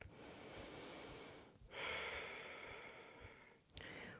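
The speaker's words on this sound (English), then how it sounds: "Bringing your awareness, your attention back to the sound of the Ujjayi breathing" Ujjayi breathing during a twisting vinyasa yoga session: slow, airy, ocean-like breaths, with a long steady exhale, a brief pause, then a stronger inhale-exhale cycle, faint and close with no talking.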